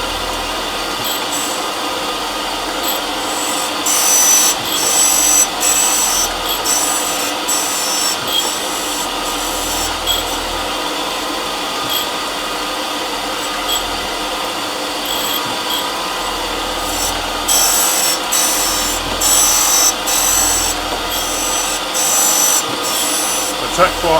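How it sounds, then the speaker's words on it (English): A flat cutting tool edge is sharpened with steady, close, rasping strokes that repeat in a rough rhythm, with a few brighter scraping bursts along the way. "Take quite a long time to sharpen when they're flat."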